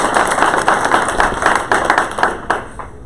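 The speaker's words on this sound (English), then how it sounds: "If we can get a round of applause." An audience applauds panel members at an event, a close, moderately loud burst of many hands clapping that tapers off after about three seconds.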